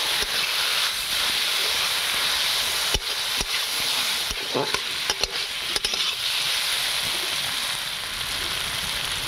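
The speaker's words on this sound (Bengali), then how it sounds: "ভালো করে কষিয়ে নেব।" Spices being fried for a fish curry with brinjal: ground dried red chilli, turmeric and coriander sautéed in hot oil in a pan, with a steady loud sizzle and intermittent scraping stirs, close up and without talk.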